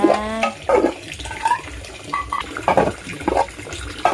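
Tap water runs and splashes in bursts while dishes clatter and clink in a sink, close by and fairly loud.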